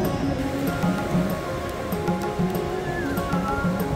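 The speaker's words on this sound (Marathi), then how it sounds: "आपण आता उभे आहोत ते महाराष्ट्रातल्या सर्वात मोठ्या समुद्रकिनारी म्हणजेच गुहागरच्या समुद्रकिनारी" Steady surf washing onto Guhagar beach in Maharashtra, a broad continuous rush of waves with a low rolling texture, moderately loud and unbroken, with no talk over it.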